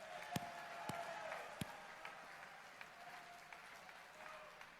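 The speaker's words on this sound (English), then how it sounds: "let's just give a big round of applause, huge thanks to Matt Schlapp and the team" Audience applause at CPAC 2022, a political conference, sounding as a quiet, distant wash of clapping with a few sharper claps standing out and a faint voice underneath.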